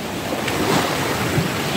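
Waves on a restless, choppy sea break against a small coastal point in a constant rushing wash, mixed with wind noise on the microphone; nobody speaks.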